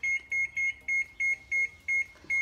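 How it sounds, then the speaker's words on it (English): Kitchen timer set while baking grain-free chocolate chip cookies, sounding a loud electronic beep in a steady pulsed pattern, about eight evenly spaced tones with short gaps, close and alone. "I'm gonna set the timer for 7 minutes"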